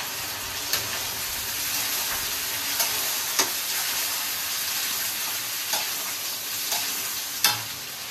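Onion and capsicum for chilli chicken stir-fry in hot oil, giving a dense continuous hiss of frying with occasional spatula clicks and scrapes spread through it.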